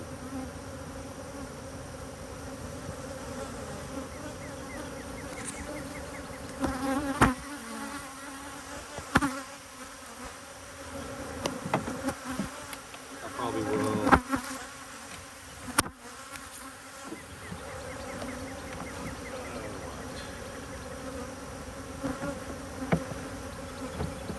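Honey bees buzz continuously around an open beehive, a dense, steady hum close by with occasional sharp knocks and clicks of equipment breaking through.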